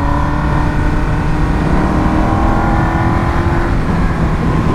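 A customized Suzuki GSX-R 1000 motorcycle engine holds a steady, loud drone at around 5,000 rpm, close up and alone, with no clear revving changes across the few seconds.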